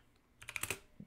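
Quick typing on a computer keyboard, a short burst of several close, crisp key clicks followed by one softer tap, faint and without talk.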